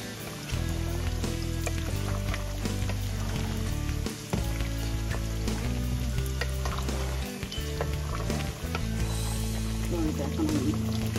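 Meat frying in a pan on a home stove, a continuous loud sizzle with scraping stir strokes, heard under a steady background hum and occasional talk.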